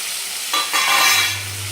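Eggplant and potato pieces hit a pan of hot oil and tomato masala, a sudden loud sizzle followed by scraping stirring, close and with no voices.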